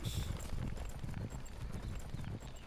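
Horse hooves clop in a quick, steady rhythm with a brief whinny at the start, from the Warcraft 3 video game, moderately close and with no talking.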